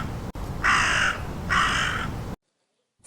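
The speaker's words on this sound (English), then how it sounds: "Raven." A raven gives two loud, harsh caws in close succession, each about half a second long, over a steady background hiss, followed by silence.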